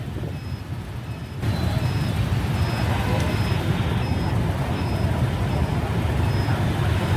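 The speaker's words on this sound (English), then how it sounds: "Rush hour is not just traffic, it is a daily rhythm of the city." Rush hour traffic on an urban street in Vietnam, a continuous low rumble of engines with a repeated high beeping tone in the background, steady and moderately loud throughout.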